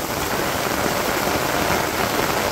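A downpour in a Bangladeshi village makes a thick, unbroken hiss of countless raindrops, close and loud, without any speech.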